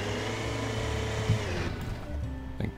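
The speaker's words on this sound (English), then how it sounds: "You might hear the fans in the background." Electric fans running in a hot garage give a steady, fairly loud whirring drone that holds throughout, with a few faint knocks and bumps near the end.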